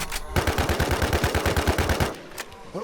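Rapid automatic gunfire from a player shooting at a boss in the Thai-server MMO shooter WarZ Siam, a loud steady burst of evenly spaced shots lasting nearly two seconds, then stopping abruptly with a faint click afterward.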